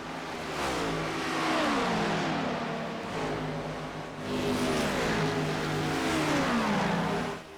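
Race cars in an iRacing multi-class race at Michigan, including Legends cars, roar past one after another with rising and falling engine pitch, loud and continuous, with no voices.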